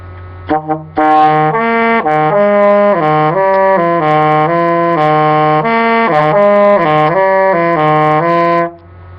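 A saxophone plays an intro riff of repeated, rising and falling notes over a sustained low C, loud and close with no other instruments.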